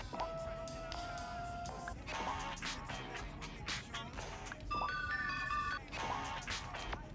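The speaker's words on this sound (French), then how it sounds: "Sonnerie." A phone ringtone in the Grand Theft Auto V video game plays as a series of short, quiet melodic tone phrases that come and go, with faint background sound in between.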